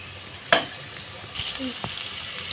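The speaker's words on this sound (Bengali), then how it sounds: "আমার পেঁয়াজটা আর ক্যাপসিকামটা বাদামি করে ভাজা হয়ে গেছে" Onion and capsicum fry until brown in a pan, with a close, soft sizzle, one sharp utensil knock near the start and light stirring scrapes after it.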